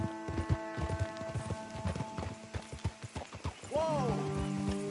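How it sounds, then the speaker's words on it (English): Horse hooves clip-clop steadily at a walking pace in Red Dead Redemption 2, with a horse whinnying near the end and soft game ambience underneath. "Let's leave the horses off the road to the right here."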